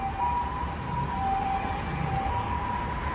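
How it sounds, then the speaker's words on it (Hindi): An ambulance siren wailing amid traffic on a road in China as cars line up to let it pass, a steady two-tone whine at moderate distance over a rumble of vehicle noise. "सारी गाड़ियां एक लाइन में लगी हैं एम्बुलेंस को रास्ता देने के लिए।"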